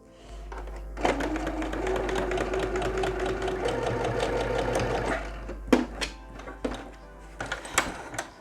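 A sewing machine stitches fabric along the edge of a homemade almond bag with ears, running steadily for about four seconds, then stopping and giving a few short bursts and clicks, with no talking.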